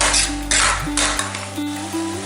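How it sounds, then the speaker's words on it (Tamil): Vegetables sautéing in a pan for Kumbakonam kadappa are stirred with a utensil that scrapes and clinks against the metal, over a steady sizzle with a low hum in the background and no talking. "ஒரு 5 minutes கேப்பில் இதே மாதிரி 2-3 times நல்லா கிண்டி விட்டணும்."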